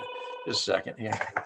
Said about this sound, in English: So excuse my phone from ringing